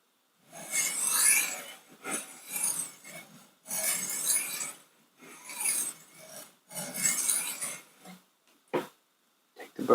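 A knife being drawn along the sharpening stones of a Wicked Edge Go to remove the burr, rendered as repeated rasping strokes of roughly one second each with short pauses between them, close and distinct.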